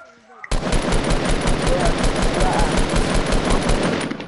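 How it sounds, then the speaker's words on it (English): Video game gunfire erupts suddenly after a quiet moment, then keeps going as loud, sustained rapid automatic bursts from several weapons for the rest of the stretch. "Oh, they're shooting."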